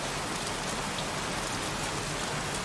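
Steady rain falls in the video game Heavy Rain, a dense, even hiss of drops on surfaces that holds constant and fairly close throughout, with no voices.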